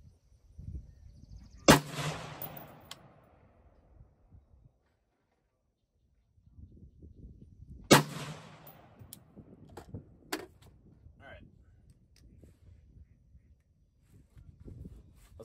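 Two sharp rifle shots about six seconds apart ring out while a Redwin Scarlet 1-8x LPVO is being zeroed outdoors, each blast trailing off in a short echo, with faint handling noise and rustling between them.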